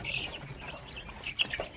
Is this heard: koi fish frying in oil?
no